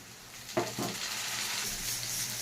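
Chopped tomato hitting hot oil with onion, green chilli and soaked chilli, cumin and turmeric spice for a small-fish curry, a sudden burst of sizzling that settles into a steady, close fry with no talking.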